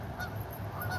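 Several geese honk loudly and close by in repeated calls while a dog chases after them outdoors at a harbor in Two Harbors, Minnesota.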